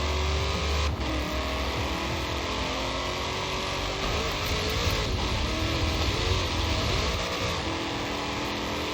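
A Chevrolet Corvette in Forza Horizon 4 roars continuously at full throttle on a top-speed run, a dense, loud engine drone with a couple of brief shift dips, unbroken by speech.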